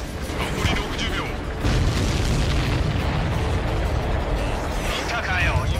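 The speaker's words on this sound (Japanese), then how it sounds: "見たかよ今の爆発。" Explosions in the aerial combat video game Ace Combat 7, loud booming bursts with a rumbling tail under continuous jet and combat noise, with a radio voice speaking over them.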